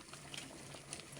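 A pot of monggo (mung bean) stew with malunggay leaves at a steady rolling boil, giving a faint, continuous bubbling simmer with soft pops, close by and without voices.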